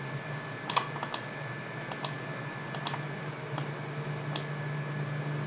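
Computer keyboard keys tapped for copy-and-paste shortcuts while working in animation software, a handful of sharp, isolated clicks spaced irregularly over a steady low hum.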